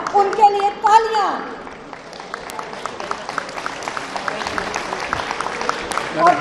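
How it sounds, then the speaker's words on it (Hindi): A crowd at a lawyers' convention in Lahore claps steadily after an amplified voice finishes speaking. The applause is moderately loud and spread out, and it fades slightly before another voice rises at the end. "उनके लिए तालियां।"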